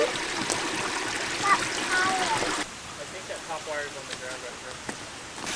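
Water from a stream running just below a small waterfall, a steady broadband rush that drops to a quieter, softer flow partway through, with faint birdsong and brief taps above it and no talk.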